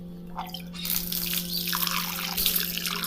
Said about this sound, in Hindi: यहाँ से पानी डालें ताकि सब जगह पानी पहुँच जाए।